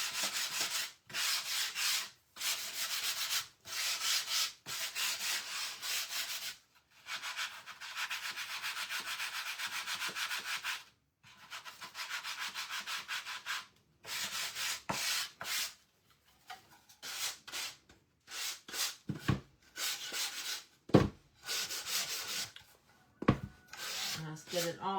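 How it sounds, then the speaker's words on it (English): Hand sanding of a small 8-by-8-inch wooden fall shelf sitter: close, repeated back-and-forth rubbing strokes in bursts separated by short pauses, growing more irregular and choppy toward the end, with no talking. "all I gotta do is just sand this a little bit"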